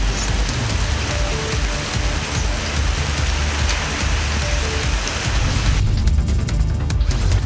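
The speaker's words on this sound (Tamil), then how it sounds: "பழனி மற்றும் சுற்றுவட்டார பகுதிகளில் பலத்த காற்றுடன் பெய்த கனமழையால் பல இடங்களிலும் மரங்கள்" Heavy rain driven by strong wind pours steadily over Palani and its surroundings in Tamil Nadu, a dense, loud, continuous roar with no voices.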